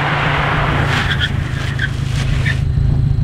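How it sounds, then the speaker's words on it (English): A car braking hard from 60 km/h in a brake pad test: close, loud tyre and road roar with rapid ABS chatter and brief squeals before the noise cuts off abruptly. "you guys heard the ABS just like yesterday"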